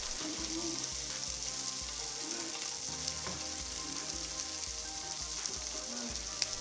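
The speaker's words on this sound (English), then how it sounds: "we got the smoked sausage in the pan" Smoked sausage bites sizzling steadily in a hot pan, a soft continuous frying hiss with faint crackles and occasional low clinks and shuffling, fairly quiet and close.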